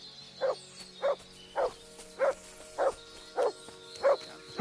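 Mutt the dog barking in Kingdom Come: Deliverance 2: eight evenly spaced, close barks repeating about every half second in a steady rhythm.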